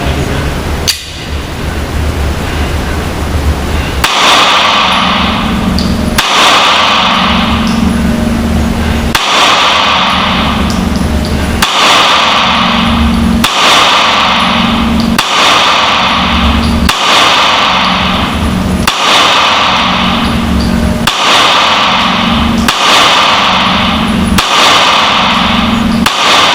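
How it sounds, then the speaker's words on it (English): A Springfield Armory Hellcat pistol empties a 13-round magazine at a shooting range. Roughly a dozen loud, sharp gunshots come at an even pace about two seconds apart, each leaving a brief echo. "I'm going to shoot the 13 round magazine out of the Hellcat now"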